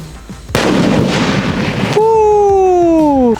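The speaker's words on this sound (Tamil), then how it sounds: "நம்மளோட பாரடைஸ் ஃபிஷ் எப்படி வெடிச்சது அப்படிங்கறத நீங்களே பார்த்து தெரிஞ்சிருப்பீங்க." A Paradise Fish sky shot firework bursts in a loud sustained crackling roar lasting over a second, followed by a long descending whistle that fades as it ends.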